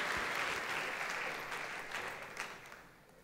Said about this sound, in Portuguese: salva de palmas para o Fábio